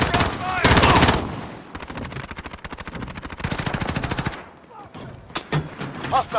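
Rapid automatic gunfire from an MP5 and machine guns in a multiplayer shooter video game, loud sustained bursts with brief pauses, mixed with a voice calling out over the shooting.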